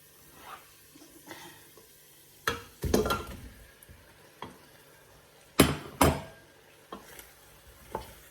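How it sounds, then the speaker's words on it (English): Oxtail meat goes back into a pot of cooking onions with a few sharp clanks and thuds of a utensil against the pot, set against a faint sizzle and quiet gaps between them. "I'm going to add back the meat, the oxtail meat in here."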